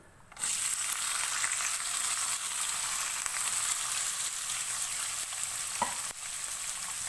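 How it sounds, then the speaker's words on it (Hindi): Five medium onions, finely chopped, sizzle in hot oil in a pan, a steady loud frying hiss throughout with a brief stir near the end and no talking. "प्याज को ऑयल में हल्का सा फ्राई करेंगे।"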